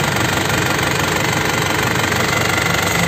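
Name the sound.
2005 LS turbo engine running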